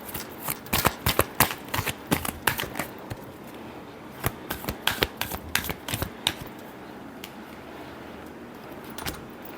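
Tarot cards are shuffled close up in quick, crisp flurries of riffling clicks that come in uneven bursts, then fade into a quieter stretch toward the end.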